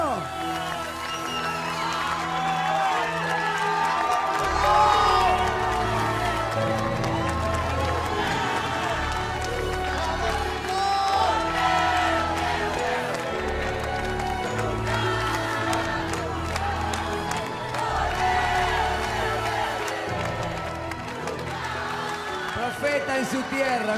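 The jury and audience at a singing show applaud and cheer loudly and continuously, with crowd noise swelling under excited talk.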